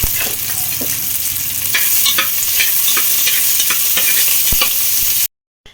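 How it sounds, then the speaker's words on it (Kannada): Onions, long green chilies and whole spices such as cinnamon, cloves and bay leaf fry for chicken biryani, a steady loud sizzle broken by scraping stirs, alone with no voices, cutting off abruptly at the end. "ಹಸಿ ವಾಸನೆ ಹೋಗೋ ತನಕ ಫ್ರೈ ಮಾಡ್ಕೊಳ್ಳಿ"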